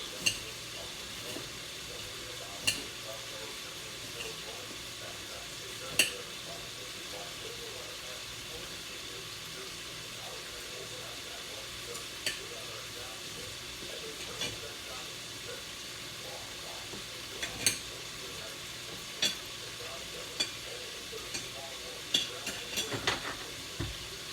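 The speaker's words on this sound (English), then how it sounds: "I'm adding mild Italian sausage" Mild Italian sausage frying in a pot for zuppa toscana: a steady, quiet sizzle and hiss runs throughout, broken by occasional small clicks and stirring ticks.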